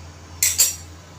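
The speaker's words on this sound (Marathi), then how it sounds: "नंतर मी झाकण लावणार आहे." A metal lid is set onto a pot of boiling matar bhat, a short bright double clink over a low steady hum.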